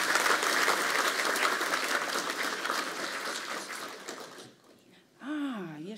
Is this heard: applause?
yes